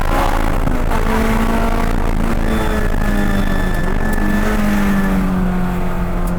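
A Honda S2000 time attack race car engine screams at high revs toward its 8,500 RPM redline, loud and close, with a sustained droning tone that rises and shifts through gears; no talking.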